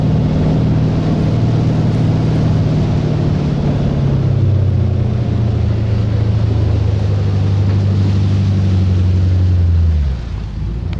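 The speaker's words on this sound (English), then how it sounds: "Listen to that motor. A lot of horsepower right here." A powerful, high-horsepower ski boat motor runs on a lake during a ski freeze-out event, a loud steady drone that drops in pitch midway and cuts off near the end, with no talk.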